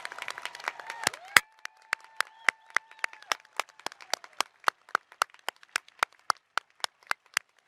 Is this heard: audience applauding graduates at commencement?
yes